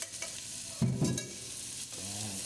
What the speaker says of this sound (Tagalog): Okay, halo-haloin lang natin mga kaibigan.